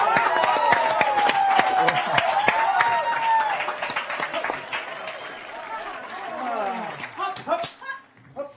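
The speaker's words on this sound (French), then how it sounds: "Est-ce qu'on peut les applaudir en même temps?" Studio audience applauding a troupe of acrobats from Chartres on a French talk show, a dense patter of clapping mixed with lively crowd noise and overlapping voices that thins out near the end.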